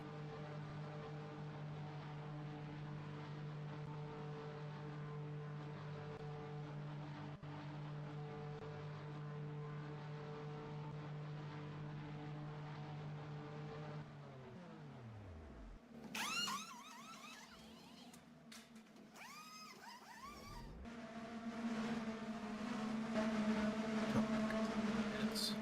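IndyCar race cars in a racing video game give a steady, buzzing engine drone whose pitch sweeps sharply downward as cars pass, then the engines rise again, loud and close.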